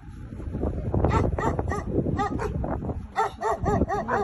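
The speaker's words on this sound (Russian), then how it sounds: "Ну, еще собаки." A group of big dogs and puppies found in a cow barn whimper, yip and bark in a rapid, overlapping jumble, close and loud, with high whines mixed among short barks.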